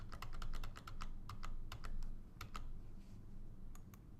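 Someone types a password on a computer keyboard, a quick run of sharp key clicks with brief pauses between them, close and clear with no talk.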